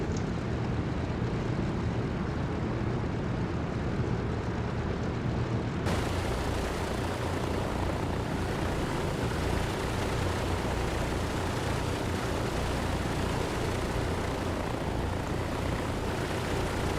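Simulated Douglas DC-3 radial propeller engines taxiing in Microsoft Flight Simulator 2024 on a Hawaiian Airlines route: a loud, continuous, rough engine roar, brightening sharply with added hiss partway through and then staying steady and close.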